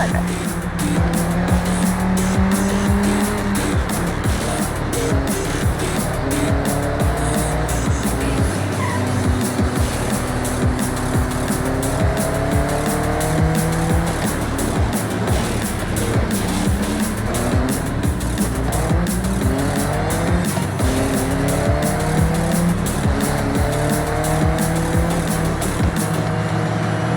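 Cars in the racing game Forza Horizon 6 drive hard with constant engine roar, rising and falling revs, and repeated tire squeal, loud and dense throughout, with a voice faintly audible underneath at times.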